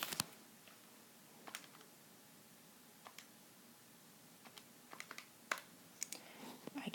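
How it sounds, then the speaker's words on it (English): Numbers are tapped into a calculator, giving sparse, light button clicks in irregular bursts, close but quiet against a faint room hiss, with no talking. "type that in your calculator to find W"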